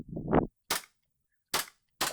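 Sharp, dry gunshots from an airsoft training simulator video game: three separate cracks, each brief and clean with silence between them, following a short rising sound at the start.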